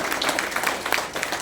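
An audience claps for students at a Rotary Club event in Palayamkottai, a dense, steady wash of many hands applauding in a hall, brief and moderately loud.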